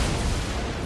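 A Play with Fire burn spell resolving in MTG Arena during a mono-red aggro match, a dense one-second fiery whoosh and crackle with a low rumbling boom, loud and steady throughout with no voice over it.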